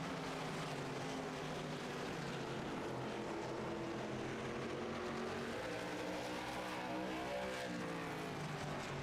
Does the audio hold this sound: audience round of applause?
no